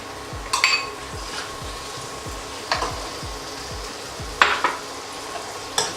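Chopped tomatoes go into a frying pan and are stirred, several clinking scrapes of a spoon against the pan at irregular intervals over a faint steady sizzle, close by and without talk.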